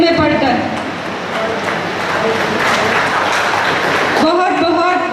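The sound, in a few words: audience applause at a ceremony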